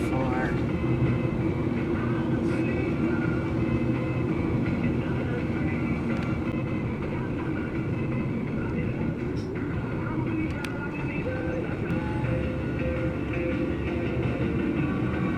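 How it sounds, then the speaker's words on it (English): A long freight train carrying trailers on flat cars rumbles steadily past nearby in Arizona, a continuous heavy rolling roar with occasional squeals and clanks, and voices talk faintly beneath it. "I think I see the rear of the train."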